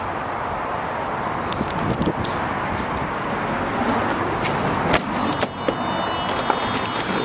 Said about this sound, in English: here we go on a test drive